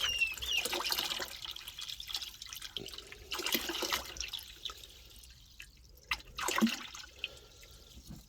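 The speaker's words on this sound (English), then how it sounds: "Just fill up the water here." Water pours and splashes while filling a 3-gallon chicken waterer outdoors, an uneven trickling and dripping with a few louder gushes, fairly close.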